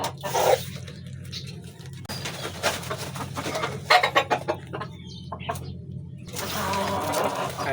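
A chicken clucks nearby while being handled and placed into a woven bag, giving several short, irregular clucks over rustling and handling noises.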